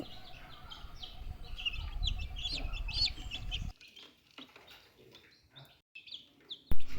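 A dense chorus of high peeps from newly hatched chicks on a hatching tray fills the first half up close, then thins to a few faint, scattered peeps.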